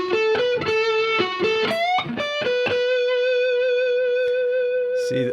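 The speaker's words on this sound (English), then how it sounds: "That comes from adding distortion with the overdrive." Electric guitar played through an overdrive pedal, a distorted solo of quick separate notes and short slides that settles into one long sustained, buzzing note, loud and without voices.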